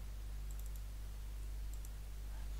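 Faint computer mouse clicks during AutoCAD drafting come in two small clusters of quick taps, set against a steady low electrical hum.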